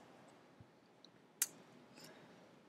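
A single crisp computer mouse click stands out in a quiet room, with a couple of fainter ticks around it, close and isolated, no talking.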